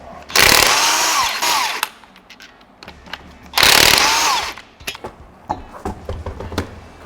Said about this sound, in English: we got to remove the wheel using a 19 millimeter wheel socket